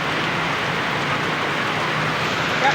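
Heavy rain pours steadily in Sta. Mesa, Manila, a dense, even hiss of downpour holding at constant loudness throughout with no voices.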